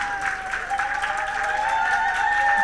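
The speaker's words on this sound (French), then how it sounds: "On l'applaudit très très fort, s'il vous plaît." A Miss Faso pageant audience applauds a contestant, dense, sustained clapping that swells slightly over a few seconds with a steady tonal hum underneath.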